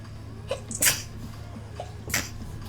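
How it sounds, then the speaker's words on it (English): Two quick sneezes from a woman during an art livestream, sharp and close, the first near the start and a second loud burst near the end over a low steady room hum. "I'm gonna sneeze."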